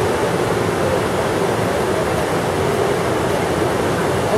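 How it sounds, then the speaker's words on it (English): Steady, full-bodied rush of a waterfall at the bottom of a canyon at Grutas Tolantongo, Hidalgo, Mexico, loud and close, with no breaks or voices over the constant roar. "This is like a waterfall area."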